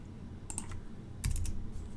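Keys on a computer keyboard are struck in two short bursts of quick, crisp clicks at close range, typing shortcuts against a faint steady background hum, with no one speaking.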